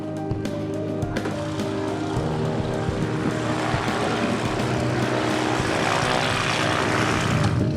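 Propeller airplane engine idling steadily before takeoff, a continuous loud drone with a low throbbing hum and broadband wash that builds slightly toward the end, with no voices.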